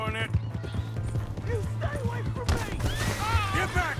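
Horse hooves clip-clop at a steady walking rhythm in Red Dead Redemption 2, close and continuous beneath frequent character dialogue, with a brief neigh and louder commotion breaking in partway through.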